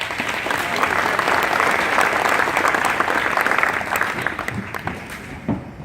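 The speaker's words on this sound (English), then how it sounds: "Now, give them a round of applause." Loud, dense applause from an audience at a sheriff's camp awards ceremony, sustained and even throughout before thinning slightly at the end.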